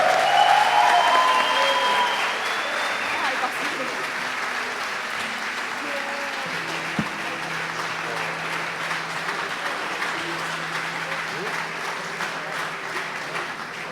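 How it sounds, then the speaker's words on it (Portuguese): A congregation claps during a pastoral ordination service at a church in Braga, the applause loudest at the start and then settling into a steady, softer patter, with brief voices and faint tones mixed in. "Você pode aplaudir o Senhor,"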